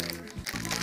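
A plastic AliExpress package bag crinkles sharply as it is torn open, a brief burst of close crackling and rustling with a low voice murmuring alongside.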